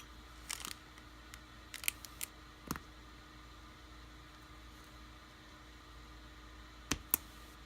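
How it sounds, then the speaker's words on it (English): Scattered snips of dull scissors cutting through towel fabric, several sharp clicks spread out with long quiet gaps and a low steady hum underneath. "I need to sharpen these scissors."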